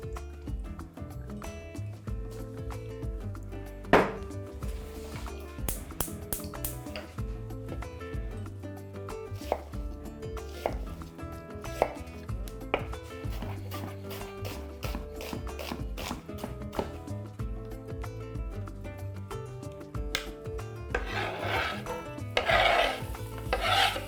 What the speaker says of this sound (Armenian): Կտրատում ենք մանր